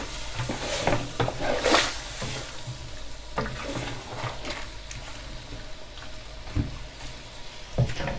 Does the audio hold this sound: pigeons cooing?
no